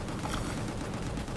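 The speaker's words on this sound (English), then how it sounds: "Never stop shooting." Dense continuous gunfire fills the shooter game Gungrave G.O.R.E., a loud unbroken rattle of shots and blasts with no break or talk.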